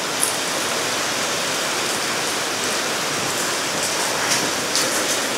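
Heavy rain in the Philippine rainy season pours steadily outdoors, a dense, even hiss with a few nearby drops and spatters, and no voices.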